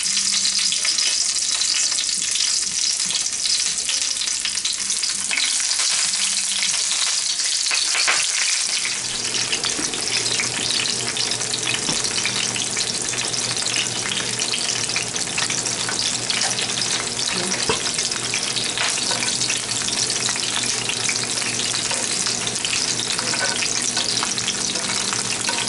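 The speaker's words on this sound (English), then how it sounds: "I just wash these and put them back in the pan, and as you can see, they toast up pretty quickly" Washed Brussels sprouts fry in hot oil in a pan over low heat, a loud, dense, continuous sizzle that swells sharply after a quieter start and then holds steady, with no talking.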